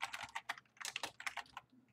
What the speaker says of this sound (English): my keyboard is from the dark ages, so that's why it makes these clucky noises